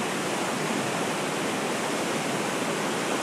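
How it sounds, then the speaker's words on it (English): A river flooded during Hurricane Irene in Grafton, New Hampshire, rushes in a loud, steady roar of broadband water noise, close and unbroken throughout. "all you can hear is just running water"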